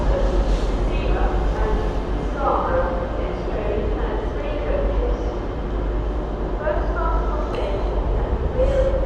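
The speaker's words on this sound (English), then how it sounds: "Off goes the LNER Zoomer bound for Edinburgh Waverley from London King's Cross." An LNER Zoomer train departing York station on its run from London King's Cross to Edinburgh Waverley, a continuous rumbling rail drone under steady talking from a nearby voice.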